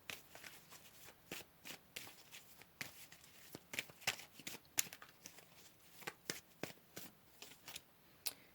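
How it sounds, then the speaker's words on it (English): Tarot cards are shuffled and pulled nearby, a quick series of soft riffling bursts and slaps repeating in an uneven rhythm, fairly quiet throughout. "Let's go ahead and pull some more cards for group number 4."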